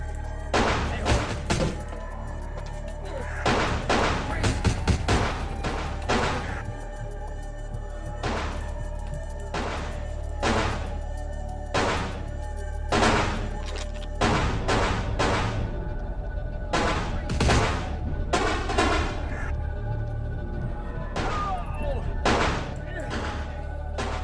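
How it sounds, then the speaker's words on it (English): Repeated gunshots from a gun in a video game, fired in irregular bursts of sharp thuds with short gaps, loud and close across the whole stretch over steady low background noise and music. "I really need you to stop shooting because you can do some damage with that gun."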